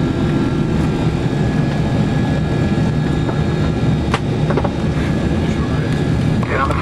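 The jet engines of an Iran Air Airbus A300 at Tabriz airport, waiting for takeoff, give a loud, steady broadband roar heard from inside the cockpit, while the crew talks over it.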